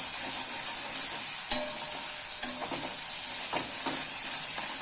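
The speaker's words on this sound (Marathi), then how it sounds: "आता आपली मिरचीची पेस्ट चांगली परतून झालेली आहे" Green chilli paste sautéing in a pan for harbhara dal pithale, with a steady, close sizzle and hiss throughout, broken by a few light scrapes of a stirring spoon, with no talk.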